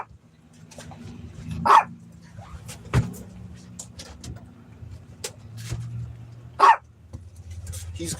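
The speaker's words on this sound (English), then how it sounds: "What's he barking about, Chico?" Chico, a dog, gives two sharp, loud single barks several seconds apart, with a few fainter yips, heard from inside a vehicle over a low engine hum and quiet background voices.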